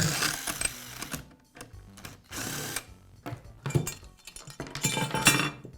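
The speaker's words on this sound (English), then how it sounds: "I'll begin by removing the side cover from the sander." Small tools work on a Makita belt sander as its side cover comes off: intermittent buzzy whirring bursts of a driver, light metallic clinks and handling rattles, close and fairly quiet, with no talk.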